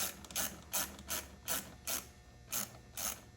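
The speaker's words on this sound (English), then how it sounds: "then you're just going to tighten your clamps down" A ratchet tightens hose clamps on an intake being installed on an LB7 Duramax diesel, giving seven short, evenly spaced bursts of clicking, close and fairly loud, with no talking.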